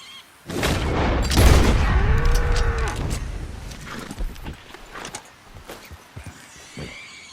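An express rifle round fired at a three-star Angus ox in Red Dead Redemption 2 booms once up close, then a low animal bellow rises and the noise tails off into quiet ambience with scattered small knocks.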